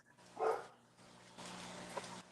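A single faint dog bark sounds in the distance, followed by quiet background hum and a low rustle.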